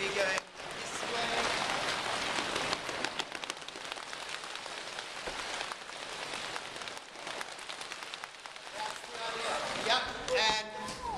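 Hands slap on legs in quick, dense patter to imitate rain, a steady hiss-like rush lasting throughout, fairly close, with a voice murmuring faintly near the end.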